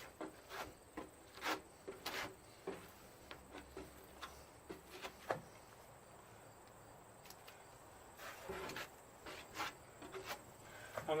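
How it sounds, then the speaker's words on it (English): Quiet, intermittent rasping strokes of hand sanding as fairing compound is feathered over a seam on a panga boat hull, soft scratchy rubs in irregular bursts. "I sanded most of it down, but I'm feathering it over the seam"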